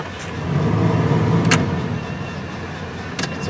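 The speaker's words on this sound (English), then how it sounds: "Okay, let's take it for a little test drive." An RV engine, treated with Seafoam for carburetor problems, runs at a steady low rumble close by, with a couple of brief clicks or clunks over the idle.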